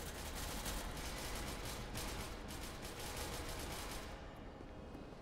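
Dense, continuous gunfire from the multiplayer shooter SCP: Secret Laboratory, a sustained barrage of overlapping rapid shots that stays loud throughout with no clear breaks.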